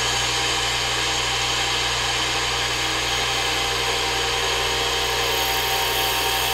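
A small Unimat lathe spins fast while turning a plastic workpiece. It makes a steady, loud motor whine and hum that holds even from start to end, with no voices.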